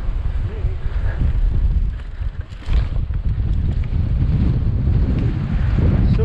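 Strong wind buffets the microphone along rugged Atlantic coastal cliffs on the Isle of Lewis during a mountain bike ride, a loud continuous roar with gusts rising and falling and a brief lull midway.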